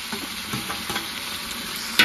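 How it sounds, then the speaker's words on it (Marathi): Tomatoes are tossed into hot, reddened oil in a pan of mutton masala cooked over a wood-fired clay stove, giving a steady loud sizzle with a few stirring scrapes and a sharp burst near the end. "त्यात मी टमाटर टाकून घेते."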